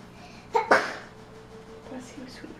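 A single sharp sneeze bursts out close by, beside Goldendoodle puppies, followed by a few soft murmured sounds.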